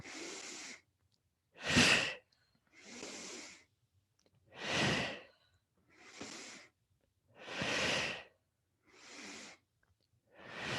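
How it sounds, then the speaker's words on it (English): Forceful Tummo-style breathing during a yoga session: seven loud, rhythmic breath bursts, alternating nasal inhales and mouth exhales, each lasting about a second with brief pauses between, close and unaccompanied by talk. "This is a Tummo breathing technique."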